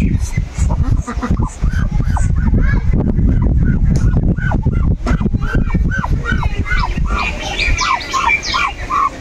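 Chinese ducks call repeatedly and close by, a busy run of harsh honks and squawks that overlap continuously over a low rumble.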